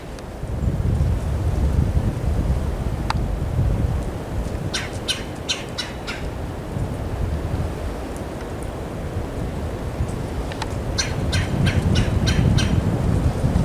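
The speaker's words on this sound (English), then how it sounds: "Oh no, there's a woodpecker. It's a woodpecker." A woodpecker calls outdoors in the woods with two series of sharp, rapid repeated squawking notes, moderately near, under steady wind noise buffeting the microphone.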